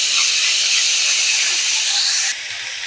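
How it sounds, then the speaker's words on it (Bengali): Drumstick leaves fry in a pan, giving a loud, close, steady hiss. The sizzle drops sharply in level near the end. "এইভাবে শাকটাকে আমি বেশ কিছুক্ষণ ভালো করে আমি নাড়তে থাকবো"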